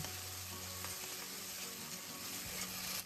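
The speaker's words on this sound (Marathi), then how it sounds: "जी पेस्ट आहे मस्तपैकी मंद आचेवर फ्राय करायची" Raw blended tomato masala paste fries on a low flame, a steady, soft sizzle and gentle bubbling with faint stirring, fairly quiet and continuous throughout.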